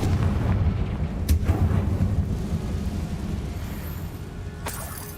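A heavy rumbling blast from the Confringo fire spell in Hogwarts Legacy rolls on in a low roar, and sharp cracks break through near the start and again near the end.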